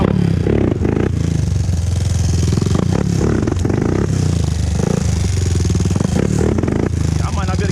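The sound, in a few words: 2001 Honda TRX400EX ATV riding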